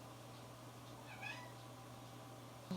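A pet cat named Gizzy meows once, faint and somewhat distant, in the background of an otherwise quiet room with a steady low hum.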